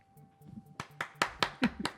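A few sharp hand claps land in quick succession over a quiet background during a tabletop game session.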